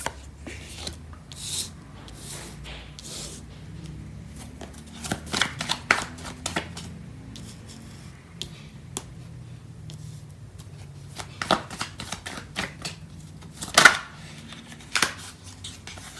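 Tarot cards being shuffled by hand, close and soft, with repeated riffles and flicks spread across a long stretch and occasional louder slaps of the deck, in a quiet room without talk.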